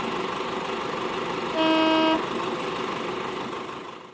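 A cement mixer truck sounds a short steady horn toot over a continuous engine rumble, the honk lasting about half a second in the middle before the motor noise fades slightly.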